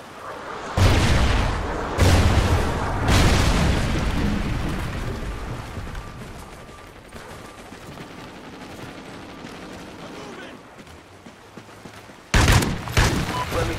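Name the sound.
Trinity rocket explosions in video game Call of Duty Ghosts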